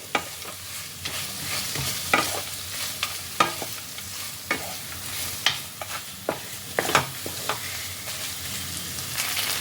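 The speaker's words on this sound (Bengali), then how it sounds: "কাজু বাদাম কেটে রাখা কিশমিশ এই সব কিছুকে আবারও একসাথে ভালো করে মিশিয়ে নিতে হবে" Spiced potato filling with chopped cashews and raisins being stirred in a frying pan, a steady sizzle under repeated scraping strokes of a spoon, close and alone without talk.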